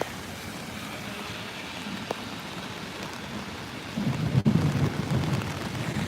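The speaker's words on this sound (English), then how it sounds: "you hear that thunder, right?" Rain from Tropical Storm Fay falls steadily in New York City, then a deep rumble of thunder rolls in and grows louder toward the end, fairly close.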